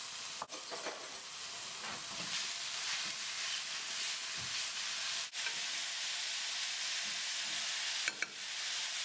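Minced beef and diced bacon frying with softened vegetables in a pan, a steady bright sizzle and hiss with occasional stirring scrapes and clinks, no talking.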